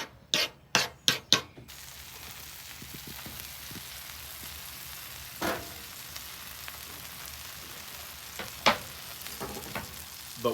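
Italian chicken caprese sandwich with mozzarella frying on a flat-top griddle, a steady close sizzle running throughout, opened by a quick series of loud scraping or tapping hits and dotted later with occasional spatula clanks.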